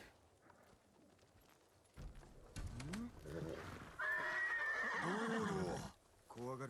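A horse neighs in the Ghost of Tsushima video game, a fairly loud whinny with rising and falling pitch following a few hoof and snort sounds, with a quieter game ambience around it.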